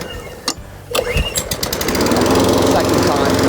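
An RM46SPC petrol lawn mower is pull-started by recoil: a couple of quick cord pulls and sputters, then the engine catches and runs steadily and loudly close by.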